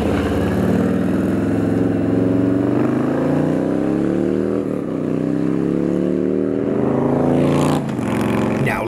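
A Roland Sands Design performance Harley-Davidson bagger motorcycle rides along a San Diego road, its engine droning loud and steady throughout, with the pitch sliding as it revs and shifts gears.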